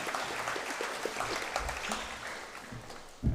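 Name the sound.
audience applause at school awards ceremony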